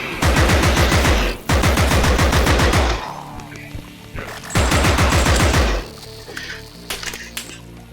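Video game gunfire comes in long rapid automatic bursts, loud and dense. The bursts stop and start with short gaps, and scattered single shots and impacts follow.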